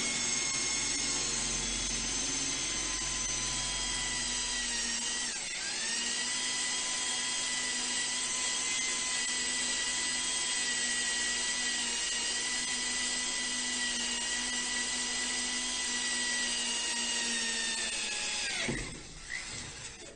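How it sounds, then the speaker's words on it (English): A power drill runs continuously at a steady high whine while drilling bolt holes for mounting a wood stove, the pitch dipping briefly partway through and again near the end as the bit bites. "Now he's going to attempt to drill the holes."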